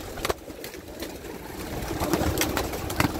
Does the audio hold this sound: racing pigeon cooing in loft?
yes